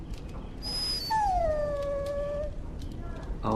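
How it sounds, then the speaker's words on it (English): A dog in Dragon Age: Origins gives a single drawn-out whining howl that slides slowly downward, loud and close over a steady low background rumble. "Bloody dog."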